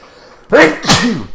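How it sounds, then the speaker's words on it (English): A single person sneezes once, close and loud, in a brief two-part burst against near silence. "Oh, sneezing."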